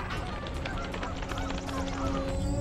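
A pair of Egyptian geese with newly hatched chicks, giving a close flurry of harsh, rapid honks and squawks over a low background hum.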